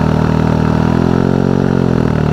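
A Husqvarna 701 motorcycle with a Wings exhaust and the baffle removed is held at about 5000 RPM. Its loud, close, steady drone rises slightly in pitch.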